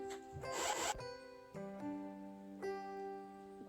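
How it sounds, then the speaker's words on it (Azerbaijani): A knife slicing through thin rolled yufka pastry sheets for Turkish baklava, giving one dense scraping burst followed by a couple of brief soft cuts, close up and with no talking. "Bişirəcəyim qab böyüklüyündə açdım. Kəsirəm."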